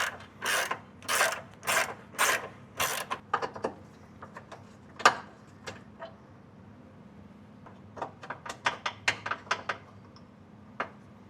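Ratchet clicks in quick bursts loosen bolts on a Honda Civic steering rack, a run of rapid clatters at first, then scattered metallic taps and ticks, close and fairly quiet, without speech.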